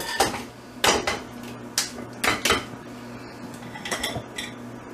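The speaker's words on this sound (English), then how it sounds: "Alright, throw them in your saucepan." Frozen berries drop into a saucepan in a kitchen, making a series of sharp clattering knocks and clinks against the metal, about a dozen scattered hits over a few seconds.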